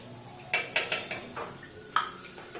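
A spoon clinks and scrapes against a pan as cornflour is stirred into beetroot halwa, several quick metallic taps in an uneven rhythm at close range, with no talking.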